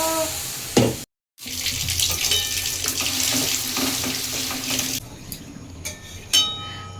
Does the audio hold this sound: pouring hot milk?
yes